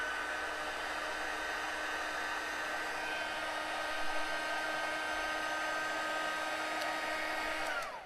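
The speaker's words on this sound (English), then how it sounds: "This is our Stampin' Up! Heat gun embossing tool, and what I'm going to do is turn this on." A Stampin' Up! heat gun embossing tool runs with a steady airy whine and blowing hiss, close and constant, cutting off just before the end.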